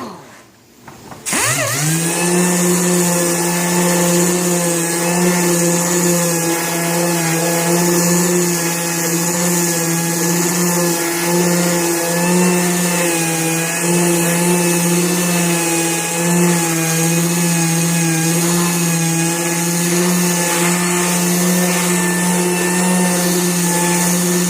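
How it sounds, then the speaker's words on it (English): A power sander sanding a plastic car bumper starts up and runs as a loud, steady, close motor whine with a constant buzzing tone and no breaks. "Now I'm going to come back with my sander again."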